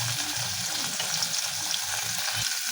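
Ground turmeric, chili and coriander powder sizzling in a pan with fried paste, stirred with a spatula in repeated scraping strokes over a steady close frying hiss.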